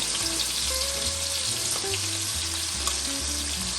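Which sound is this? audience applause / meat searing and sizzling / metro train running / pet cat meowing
meat searing and sizzling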